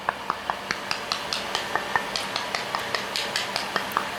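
A hollow, badly laid floor tile in a new-construction house being tapped with a hard tool: about twenty light, evenly spaced clicky knocks, close and crisp, with no talking.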